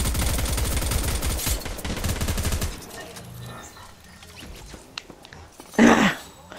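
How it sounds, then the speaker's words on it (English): Rapid automatic gunfire rattles in Fortnite, a loud fast burst of shots for about three seconds that then stops, followed by quieter scattered game sounds and a brief louder burst near the end. "I heard shooting, but I knew it was y'all."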